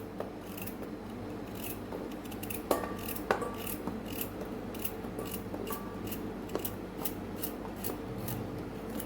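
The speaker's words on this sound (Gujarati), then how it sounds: "ગાજરને પણ આપણે મોટા મોટા ટુકડામાં કટ કરશું।" A knife chops carrots into large chunks for a Hyderabadi veg biryani, giving repeated crisp cuts against a board. The strokes fall at an irregular pace over a steady low kitchen background, and no one speaks.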